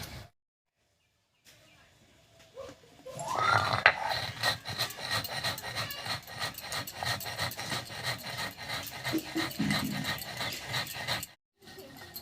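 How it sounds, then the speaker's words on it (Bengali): Sugar being ground into powder at home: a harsh, gritty rasping and scraping that starts after a short quiet pause and continues steadily at moderate loudness, then stops abruptly near the end. "আর এই ফাঁকে আমি একটু চিনি গুঁড়ো করে নিচ্ছি।"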